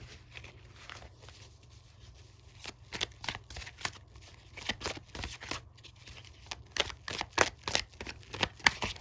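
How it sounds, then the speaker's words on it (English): Tarot cards are shuffled close by in quick, irregular riffles and slaps that grow busier toward the end, with no talking. "So I'll do shuffling on camera."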